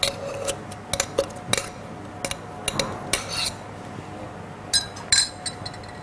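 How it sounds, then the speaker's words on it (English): Fresh cucumber slices pressed with a muddler in a metal cocktail shaker, giving scattered sharp clinks and ticks in an irregular rhythm, close and fairly quiet. "So 2 slices of fresh cucumber into the end of our shaker, and just give it a light press."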